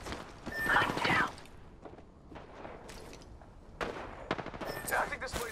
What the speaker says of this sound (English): Shots fired, and they're hit.